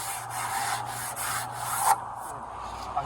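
A sanding block is rubbed by hand along a wooden window sash that is being stripped of paint. The strokes are close, steady and scratchy, and they stop near the end of the clip.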